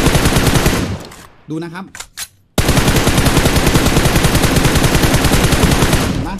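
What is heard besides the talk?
gun firing with recoil control in PUBG Mobile video game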